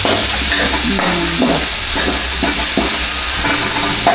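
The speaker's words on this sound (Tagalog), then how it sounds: "Habang nagagisa." Chami noodles sautéing in a hot pan, a loud steady sizzle with repeated stirring scrapes throughout.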